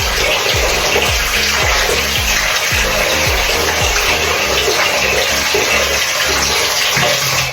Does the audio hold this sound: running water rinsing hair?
yes